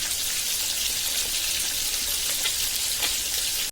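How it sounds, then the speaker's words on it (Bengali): Marinated fish fry in oil, making a dense, even, close sizzling hiss that carries on unbroken and fairly loud throughout. "এবার আমি মেরিনেট করে রাখা মাছগুলো একটু তেলে ভেজে নিব"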